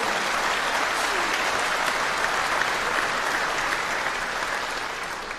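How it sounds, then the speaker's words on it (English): Audience applause at the 2026 BAFTA Games Awards ceremony, a dense, steady clapping from a large crowd that holds loud and even throughout before easing slightly at the end. "a round of applause"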